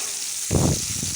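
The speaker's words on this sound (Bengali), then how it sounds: "এবার ওই তেলেই পেঁয়াজ কুচিগুলোকে ফ্রাই করে নেব," Chopped onions dropped into hot oil for Kolkata-style chicken and potato biryani, after cumin seeds; a sudden close sizzling hiss bursts up after a quiet moment and keeps crackling.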